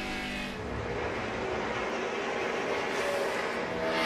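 NASCAR Camping World Truck Series race trucks roar around the Milwaukee Mile, a steady loud engine drone heard from a distance with no voices over it.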